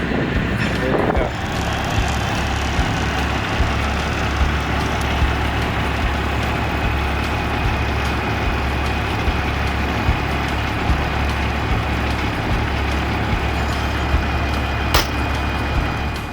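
Heavy machine being unloaded from a truck at a railcar site, with a steady diesel rumble idling and working throughout, a brief knock early on and a faint beep near the end.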